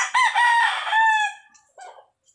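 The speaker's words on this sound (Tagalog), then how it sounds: "Maraming manok pa doon." A rooster crows once, loud and close on a farm, its harmonic call stretching about a second before trailing off, followed by a few soft clucks.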